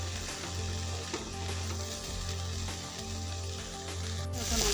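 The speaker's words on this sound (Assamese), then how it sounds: "এনেকৈ লৰাই থাকিম খৰবালৈকে" Water spinach greens stir-fried in a hot pan over raised heat, a steady loud sizzle and crackle of frying with faint stirring scrapes running throughout, no voices.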